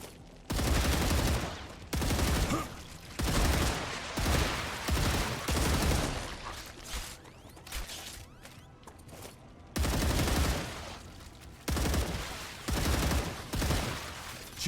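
In the video game StarRupture, bursts of rapid automatic gunfire come in several loud volleys separated by short pauses, with dense crackling shots and a low rumble underneath and no speech.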